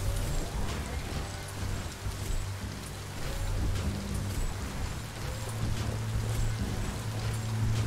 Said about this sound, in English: Rain gets any worse, you could dissolve.